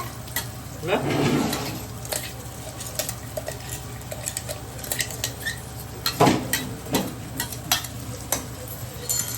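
Ginger garlic paste fries in a pan for a Tamil Nadu style chicken dum biryani, a low sizzle under clattering utensil scrapes and stirring knocks, with a burst of frying near the start and more clinks later.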